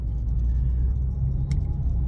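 A Hyundai Genesis all-wheel-drive sports sedan drives along city streets, heard from inside the cabin as a steady low road and engine rumble with no talking.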